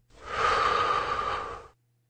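A single long, soft breath, drawn out for about a second and a half in a quiet setting and ending abruptly.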